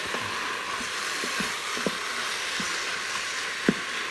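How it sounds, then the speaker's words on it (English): Chicken searing in a pot for chili, a soft steady sizzle with a few scattered pops and crackles, fairly faint and with no talk. "I just kind of like to sear it a little bit"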